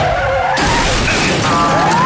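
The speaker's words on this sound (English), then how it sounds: "we get a good car chase scene" A car chase from The Bourne Ultimatum, with sharp tire skids whining over a loud engine and a sudden burst of crash noise, the whole short sequence dense and loud before cutting off abruptly.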